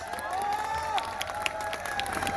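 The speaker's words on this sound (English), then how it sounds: "we want a huge round of applause before proceeding with the event" An audience at an evening academic event breaks into applause and cheering, a dense continuous clapping with scattered shouts and a faint tonal hum underneath, fairly loud throughout the short burst.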